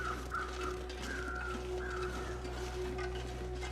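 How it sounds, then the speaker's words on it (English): Several crows caw in short repeated bursts over a constant low hum, moderately distant, no talking, in the video game The Long Dark, near a birch grove. "Uh-oh, weather crows."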